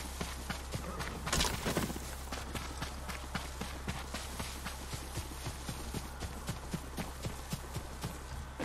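Horse hooves clip-clop steadily at a walking pace in the Ghost of Tsushima video game, a regular rhythmic patter heard close and moderately loud over a low steady hum, with one brief louder burst early on.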